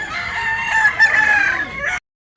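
A rooster crows once at a chicken market in Talisay, Cebu, close and loud, a long strained call that cuts off abruptly at the end.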